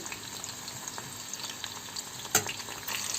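Battered pieces frying in hot oil for a pakoda-style dish, a soft continuous bubbling sizzle with a brief sharper clatter near the end, close and without voices.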